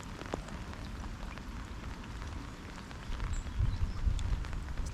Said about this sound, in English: Hopefully this rain will stop at some point.